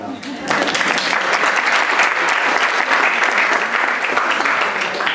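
Loud, dense applause from a symposium audience welcoming the speakers, starting abruptly after a brief quiet moment and holding steady to the end.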